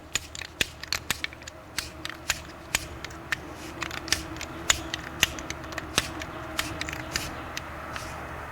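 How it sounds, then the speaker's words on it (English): Ratcheting clicks from a torque wrench being adjusted to 72 foot-pounds during an Acura MDX rear wheel bearing job, a steady run of sharp, close clicks at uneven intervals over a faint background hum. "So I got my torque wrench over here. So I'm gonna set it up to 72"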